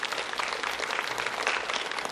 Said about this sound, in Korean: 주님 앞에 한번 뜨겁게 찬양의 박수 한번 올려드립시다